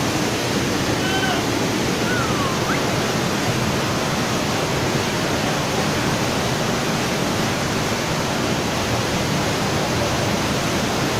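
Loud, constant rushing flood water of a creek roars without a break, a dense wall of churning flow close by, during a flood in Kahramanmaraş.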